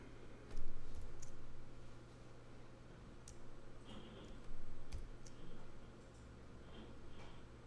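A computer mouse clicks sharply a few times, quiet and close, with faint background noise during an Adobe Illustrator demo.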